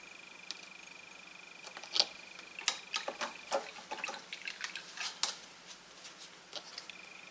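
A paintbrush dips into water while a miniature is painted: faint, scattered little drips and taps, quiet and close, with short pauses between them.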